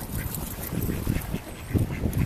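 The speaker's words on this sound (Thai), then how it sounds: "เจ้าเป็ดน้อยขนมปังหมดแล้ว" Ducks quacking at a pond in the English village of Bourton-on-the-Water, a busy, continuous cluster of nearby calls over an outdoor crowd murmur.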